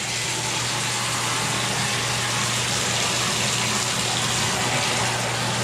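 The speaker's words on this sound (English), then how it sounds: "And then you have hot water in the tub." Hot water runs steadily into a bathtub in a two-story house during a final home inspection, a continuous broadband gush with a low hum beneath, alone with no talk.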